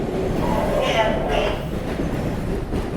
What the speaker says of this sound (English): This is an old train. This is literally a 40-year-old Silverbird type.